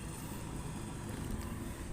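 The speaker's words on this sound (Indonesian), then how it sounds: "kita akan mendengarkan suara motor Moge IR6F 650 cc" A Kawasaki ER6F 650 cc motorcycle engine runs at a low, steady idle, a faint, continuous rumble with no other sounds.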